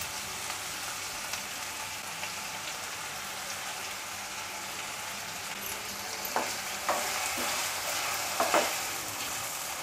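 Onion and tomato with salt sauté in a hot pan, giving a steady close sizzle broken by a few sharper stirring scrapes toward the end, with no voices.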